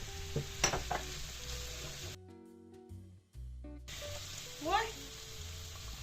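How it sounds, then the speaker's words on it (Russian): Chopped onion fries in a pan, a soft sizzle and crackle under faint kitchen clatter, broken by a short gap of near silence in the middle. "у нас с вами задача обжарить этот лучок"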